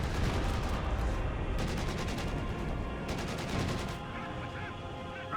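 Rapid bursts of small-arms and machine-gun fire crackle through a Company of Heroes 2 battle, dense and continuous with sharp volleys clustering around the middle, under a steady rumble of combat.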